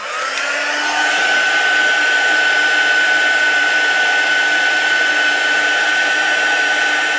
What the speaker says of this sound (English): I'm going to heat set this first, just so the embossing powder doesn't all blow away